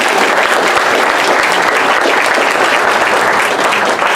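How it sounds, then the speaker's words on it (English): Audience at an Asian Business Association town hall applauding, a loud, sustained round of many hands clapping close by, unbroken for the full stretch with no voices heard. "can we please give another round of applause here"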